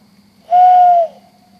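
A single owl hoot at night in the woods, one smooth sustained note lasting about half a second, clear and fairly close against a quiet background with a low hum.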